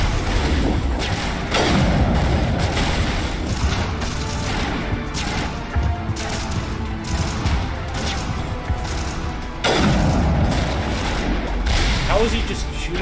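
In a video game, an enemy's gunfire tears through cover in rapid, loud volleys of booming shots that swell and break off, with brief talk overlapping the barrage.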